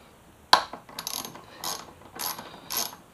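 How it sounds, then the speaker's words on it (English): A ratchet with a 10mm socket loosens motorcycle bracket bolts on a crashed Yamaha FZ6R, heard as a sharp first click and then several short ratcheting strokes at close range. "So I'm actually going to undo these bolts. So this is a 10mm socket."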